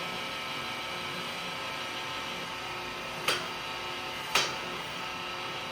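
Guards on a Dakota fleshing machine knock twice against a deer hide during fleshing, two sharp clacks about a second apart over a steady mechanical motor hum.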